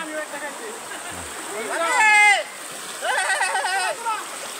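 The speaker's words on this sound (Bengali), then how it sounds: "পাহাড়ি ঝর্ণা" Hill waterfall at Ham Ham falls in rugged hill country, its steady rush of falling water running throughout, with people talking over it in bursts.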